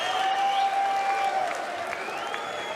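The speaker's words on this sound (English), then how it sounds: "he acknowledges the crowd's celebrations as well" Darts crowd at the Austrian Darts Open celebrating a won game with steady, loud applause and cheering filling the hall, while a voice carries on faintly over the noise.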